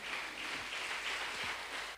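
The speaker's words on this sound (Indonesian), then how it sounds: "Kasih dong tepuk tangan buat Tuhan Yesus" A church congregation claps during a Sunday morning service, producing a continuous, fairly distant wash of applause that holds steady throughout.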